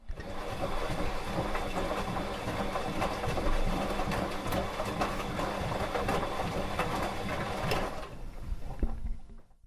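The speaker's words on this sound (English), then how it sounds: "you might rely on the sound of the machine washing as an indicator that it's not done yet" A washing machine runs with a dense mechanical whirring and rattling, steady and loud, then abruptly drops off near the end.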